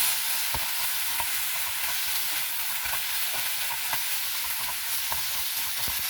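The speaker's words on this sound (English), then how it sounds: "Stir it in." Turmeric and salt being stirred into eggplant in a pan for brinjal chutney: a steady sizzle with soft repeated spoon scrapes and taps, close and alone.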